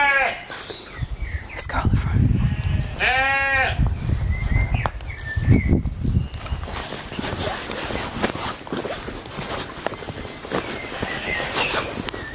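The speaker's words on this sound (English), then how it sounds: "Sheep's going this way." Several sheep bleat in quick wavering calls close by near an abandoned house, with people talking and footsteps or hoof sounds mixed in.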